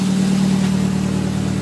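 A car engine idles steadily after its SU HS6 carburettors are balanced and the mixture is set. It gives a constant low hum near 1000 RPM with an even, unchanging drone, close up and with no voices.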